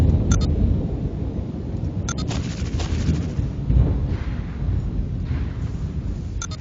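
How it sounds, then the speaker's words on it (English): Loud thunder in a video game rolls as a deep, continuous rumble with sharp crackling peaks, swelling and fading over several seconds. "I may turn the volume down because that thunder is stupidly loud"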